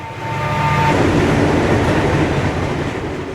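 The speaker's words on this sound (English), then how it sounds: "a train of hopper cars is wasting no time," A Conrail freight train of hopper cars rolls steadily past at speed, a loud, close rumble of wheels and cars that swells in and holds, with a brief high tone near the start.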